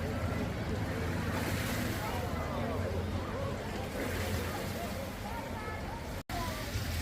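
Steady sea surf washes against the shore at Petrovac, Montenegro, with continuous wind rumbling across the microphone and a faint murmur of voices in the background; the wash holds an even level throughout, with one sharp brief dropout near the end.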